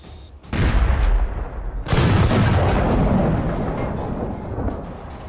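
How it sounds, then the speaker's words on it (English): Infantry gunfire in combat: two heavy, booming reports set off a long rolling roar that echoes and slowly fades, loud and close. "and the far group is firing."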